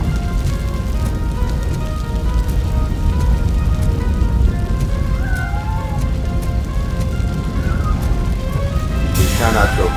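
Fire roars in Robocop: Rogue City, a steady loud broadband crackle and rush that continues throughout, with faint tonal game sounds and a brief burst near the end.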